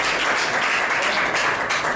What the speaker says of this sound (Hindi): एक बार हम केवल ताली बजाएंगे